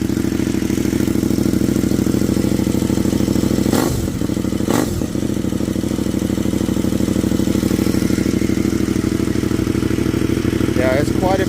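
A motorcycle fitted with a cheap universal eBay exhaust idles loudly and steadily nearby, with two quick blips of the throttle midway and brief talk near the end.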